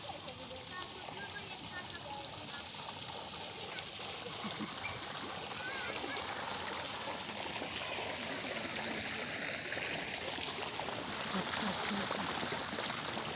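A town fountain gives a steady, close rush of falling and splashing water that fills the whole stretch evenly and swells slightly louder partway through.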